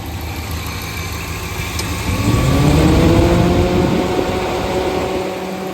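A car engine runs steadily at idle, its low hum swelling briefly louder midway before settling back to a constant drone.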